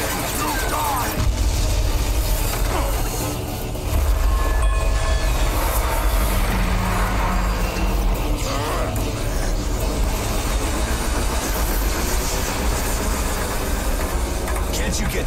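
A train rolls along in the Bulletstorm video game, a loud continuous rumble with rattling wheels and clatter. Game voices and shooting mix in over it throughout.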